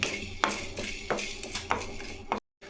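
Whole spices roasting in a pan over medium heat for Chettinad mutton kulambu, with a spoon scraping and clinking against the metal in repeated strokes, close and fairly loud, followed by a brief cut to silence.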